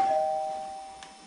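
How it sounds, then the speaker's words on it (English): A doorbell chimes once with a clear sustained tone that decays slowly, heard alone at moderate level in a quiet house. "The doorbell. They're at the door."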